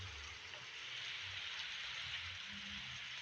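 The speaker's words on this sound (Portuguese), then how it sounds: "E agora? Chuva." Steady hiss of rain falling in the survival video game 99 Nights in the Forest, a soft continuous wash at low level with a faint low rumble beneath and no talk.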